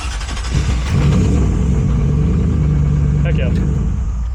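Car engine idling steadily after chassis wiring and ignition switch work, a loud close rumble with a brief rev early on, voices talking over it.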